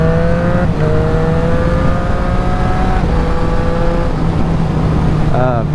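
A 2024 Triumph Street Triple RS motorcycle pulls hard to overtake, its engine note rising steadily through several gear changes, loud and close, with a steady droning undertone.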